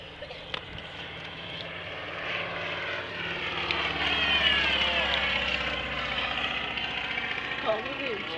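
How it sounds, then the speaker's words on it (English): A Sopwith Pup biplane comes in to land at an airfield, its propeller engine droning steadily and swelling slightly as it nears, moderately distant, with commentary spoken over it. "coming in from the south is the Sopwith Pup"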